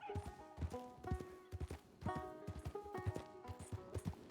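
A mare's hooves clip-clop steadily across the ground in the video game Red Dead Redemption 2, a close, even galloping rhythm with no talking.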